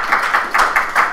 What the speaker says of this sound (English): let's give him a round of applause for his work